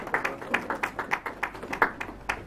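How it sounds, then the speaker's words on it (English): A small group of hands claps in a quick, even rhythm at a press briefing for the Miss SHS Ghana 2020 pageant, about a dozen distinct claps, fairly faint and slightly distant. "Ladies and gentlemen, please give him a round of applause."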